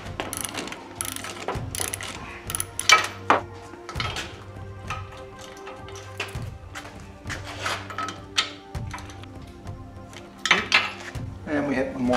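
Torque wrench ratcheting on a 12mm motorcycle frame bolt set to 35 foot-pounds: a string of close, sharp mechanical clicks in short bursts, with pauses and light metallic handling noise between them.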